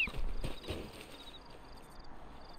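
Horse hooves clip-clop at an easy walking pace in Red Dead Redemption 2, a few clear strikes at first, then fading into a quieter ambient background with soft chiming tones.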